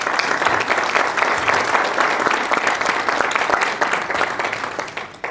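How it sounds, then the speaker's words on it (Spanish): Steady, dense applause from an audience greeting speaker Julio Raffo at a talk on free culture on the internet. It stays loud and continuous throughout and eases slightly at the very end. "Fuerte aplauso"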